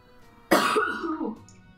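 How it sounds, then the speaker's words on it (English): A single harsh cough bursts out loud and close, followed by a rough, fading throat rasp over about a second, with quiet before and after. "I'm really sorry for my cough"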